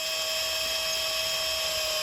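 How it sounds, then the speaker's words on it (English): A power drill set to slow speed drives a tap into a hole in wood to cut threads, giving a steady high-pitched motor whine with constant tonal humming and no pauses, close and even throughout. "The tap on my drill, I set it to slow speed"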